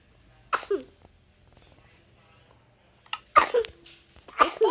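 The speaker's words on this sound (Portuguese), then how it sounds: "Tosse." A few short, sharp coughs ring out close by: one single burst, then after a quiet pause two more bursts in quick succession, with no talking.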